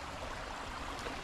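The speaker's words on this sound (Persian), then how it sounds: "سکوت، صدای آب." A stream on a weekend hike in the Blue Hills flows with a constant, even hiss of rushing water, soft and steady with no voices.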